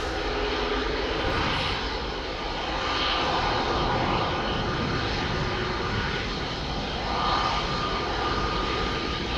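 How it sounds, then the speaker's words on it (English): An EasyJet Airbus A320neo bound for Nice takes off from Amsterdam Schiphol Airport, its jet engines producing a loud, steady roar that holds for the whole stretch with gentle swells and no talk. "Lining up on the threshold, EasyJet A320neo to nice."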